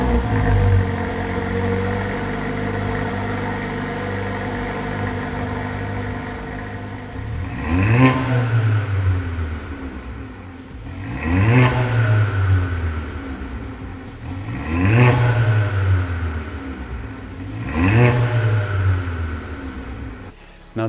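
Rebuilt car engine fitted with a new downpipe and induction kit idles, then revs in four sharp blips that rise and fall back, loud and close with no talking.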